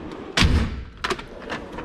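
Drawer of a Snap-on tool box sliding and banging shut with a solid thud, followed by lighter metallic knocks and rattles, close by.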